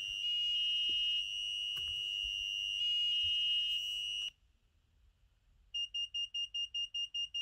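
An active piezo buzzer on an Arduino Elegoo Uno R3 emits a loud, steady high-pitched tone, then after a pause returns as a rapid string of evenly spaced short beeps pulsing with a 100 millisecond delay.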